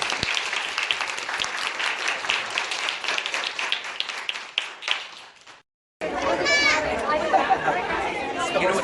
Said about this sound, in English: I think we need to give a round of applause to Mr.